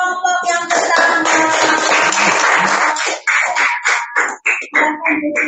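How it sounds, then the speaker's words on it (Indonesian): A classroom group claps for the first group to present, a loud, dense burst of applause that holds steady before breaking into a few uneven final claps. "tepuk tangan untuk kelompok yang pertama"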